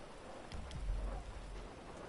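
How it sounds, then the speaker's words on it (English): Rain falls in a video game as a soft, steady patter with faint low rumbles underneath, quiet and continuous throughout. "if it could just stop raining."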